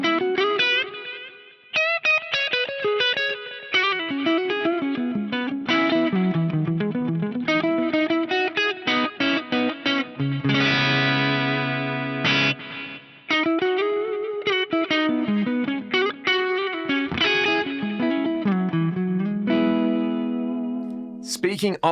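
An electric guitar runs through a Fractal diffusion effect, playing single-note lines and chords with a lush, shimmering, reverberant wash that carries on continuously and fills the space between notes.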